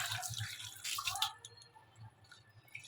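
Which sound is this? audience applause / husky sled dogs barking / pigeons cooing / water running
water running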